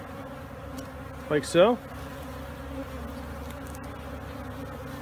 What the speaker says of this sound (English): Here we have the swarm of bees.